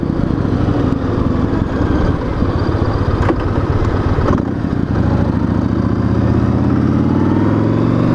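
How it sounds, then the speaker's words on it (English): A motorcycle exhaust rumbles loudly and steadily, with the engine note shifting and rising toward the end, heard close up over wind noise. "you can hear that exhaust rumble the way it's meant to be"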